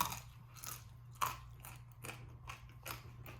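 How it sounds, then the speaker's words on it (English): Oven fries being eaten, with a series of crisp, brittle crunches in a steady chewing rhythm, close and fairly quiet with no talking. "We have that same crispy, loud crunch"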